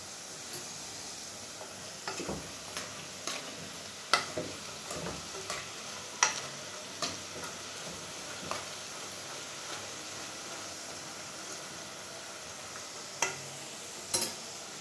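A spoonful of turmeric stirred into salt for feseekh, salted fish, makes quiet, irregular gritty scrapes and small clicking taps, some closer and sharper, over a faint background hiss without speech.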